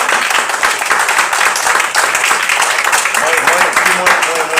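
Audience applause at the opening of a collective art exhibition, loud and continuous, with a voice speaking over the clapping throughout.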